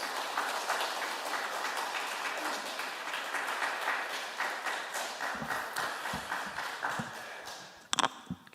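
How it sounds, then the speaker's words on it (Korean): A church congregation at a Wednesday prayer service applauds to welcome a visiting pastor: steady, moderately distant clapping that thins into scattered claps and a few thumps near the end. "우리 다시 한번 박수로 우리 환영할까요?"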